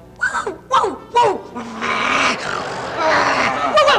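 A woman in a 1975 Mexican comedy imitates a dog with her voice, giving a few sharp yipping barks and then a longer growl and whine, loud and close, her voice mixing with the dog-like sounds.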